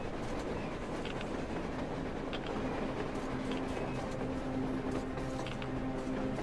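Train in the video game Metro Exodus, running on the surface: a steady rumbling roll with a sustained low drone, heard at a distance and constant throughout, with no talk.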